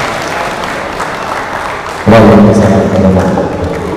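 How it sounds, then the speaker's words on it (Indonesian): Audience applause at a motivational talk on teamwork in managing a financial institution; quiet room tone gives way to a sudden loud burst of clapping from many people that holds steady to the end. "Tepuk tangan untuk kita semua."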